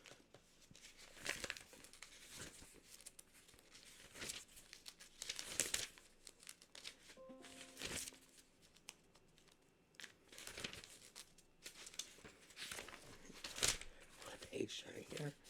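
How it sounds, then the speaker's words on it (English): Pages of a book turned with soft papery crinkles and rustles, scattered through the stretch, under a quiet room with a voice heard faintly. "Page turning here."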